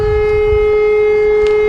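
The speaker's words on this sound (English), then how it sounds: "A siren" A civil defense style siren rings out as a steady, sustained tone at loud level, played as a sound effect with no voices over it.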